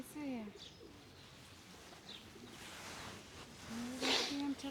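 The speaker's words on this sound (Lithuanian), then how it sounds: "Ir balandžiai laisvėje." Free-roaming pigeons cooing at a manor estate where peacocks also roam, soft low coos repeating through faint ambient noise, with quiet rustling in the background.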